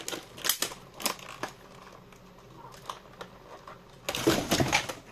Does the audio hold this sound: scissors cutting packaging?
yes